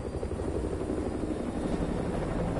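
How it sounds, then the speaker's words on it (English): An enemy helicopter in Call of Duty Modern Warfare 2 flies on a perimeter patrol, its rotor beat a steady, dense low thrum that stays loud and even for the whole stretch, with no voices over it. "Enemy helo, get out of sight."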